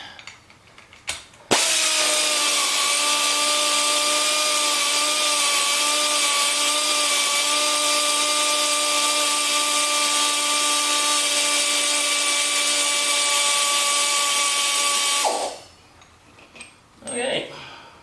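Power tool spinning loose the shock bolts on a 2016 Harley-Davidson Tri Glide Ultra, a loud, steady motor whine held for about fourteen seconds, with brief clicks and handling noises before and after.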